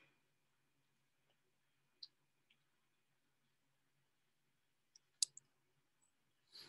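A computer mouse gives a few sparse, quiet clicks at irregular intervals in a near-silent room, followed by a brief louder rustle at the end.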